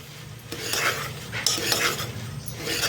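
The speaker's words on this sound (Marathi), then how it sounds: "याला मिक्स करून घ्यायचे" A spoon scrapes and clinks around a pan as moth bean usal is stirred, with a low sizzle underneath; close, moderately loud, irregular strokes.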